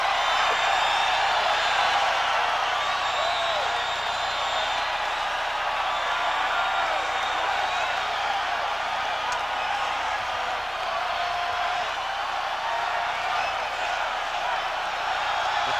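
A large stadium crowd at a 1992 Monday Night NFL game with Joe Montana keeps up a dense, steady roar of voices for the whole stretch, loud and continuous, with no single voice standing out.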